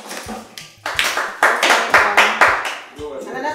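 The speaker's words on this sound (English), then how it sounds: "A round of applause for him." Classmates give a student a round of applause in a school classroom: a handful of sharp, rhythmic hand claps ring out in separate bursts, with children's voices mixed among them.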